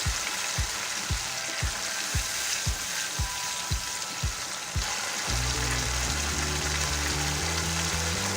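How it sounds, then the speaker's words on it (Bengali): Ginger garlic paste frying in a pan while cooking chole, a steady sizzle with a regular series of sharp stirring scrapes that stops partway, leaving low tonal hum and continued frying; no one talks. "আদা রসুন বাটাটাও আমি ভেজে নেব।"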